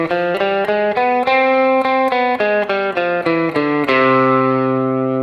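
Guitar plays a harmonic major scale as a run of single notes, each plucked note evenly spaced and climbing in steady rhythm, with a final note left ringing out, up close and processed through an effects unit with no voices.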